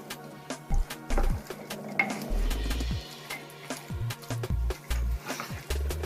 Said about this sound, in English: I'm going to stir all of this